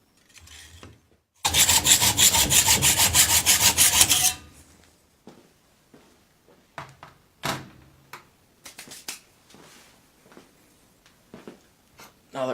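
A hand saw cuts a bicycle fork steerer tube held in a cutting guide, a loud rapid back-and-forth rasp lasting about three seconds, followed by scattered clicks and handling knocks.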